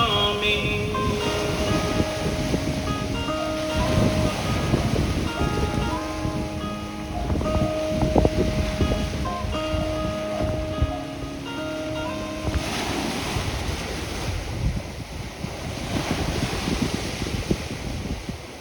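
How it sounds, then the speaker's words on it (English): Ocean waves roll in at a beach on a windy day, a steady broadband wash with heavy wind buffeting the microphone throughout, while tonal musical sounds run over the first part and the surf grows rougher and louder near the end. "Waves coming in."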